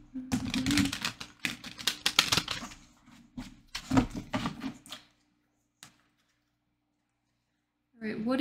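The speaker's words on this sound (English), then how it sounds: "I don't know why I'm shuffling." Tarot cards are shuffled close by in quick riffling bursts of crisp taps, then stop into near silence before the shuffling resumes at the end.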